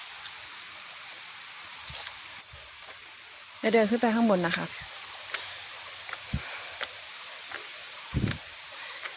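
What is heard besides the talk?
flowing water at Sapan waterfall, Nan province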